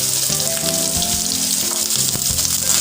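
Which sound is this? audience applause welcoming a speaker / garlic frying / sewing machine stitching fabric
garlic frying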